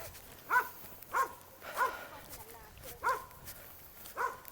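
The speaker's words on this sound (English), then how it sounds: "Got barking dogs, chain link fence." Dogs bark behind a chain link fence along a trail in Shenandoah National Park, five or six separate woofs at steady intervals, moderately distant and fairly faint.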